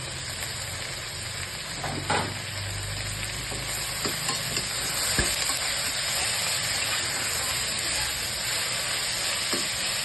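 Mint leaves and a single tomato sauté in oil for a simple biryani, giving a steady close sizzle and hiss with a few soft stirring scrapes and knocks throughout.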